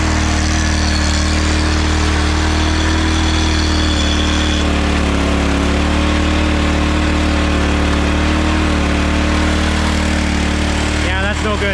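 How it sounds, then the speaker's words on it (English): A small gasoline engine on a hydraulic wood splitter with leaking seals runs at a steady, loud, close idle, a constant droning hum that continues throughout. "Alright guys, we got the engine fired back up,"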